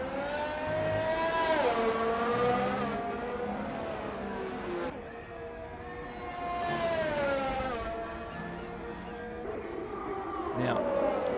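Mercedes Formula 1 car engine in an F1 video game on the tight Marina Bay street circuit in Singapore, a high-pitched whine rising and falling through gear changes and accelerations, steady and close, with commentary talking over it.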